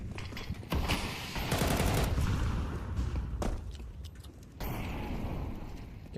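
Galil and AK rifle fire rattles in a Counter-Strike 2 match as dense bursts of gunshots. Background crackle and shuffling fill the space between volleys.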